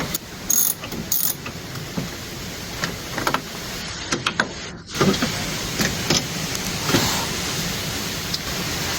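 Ratchet turning a bolt on the front end of a Ford Focus ST170, quick bursts of close mechanical clicking with brief pauses and clanks, no talking.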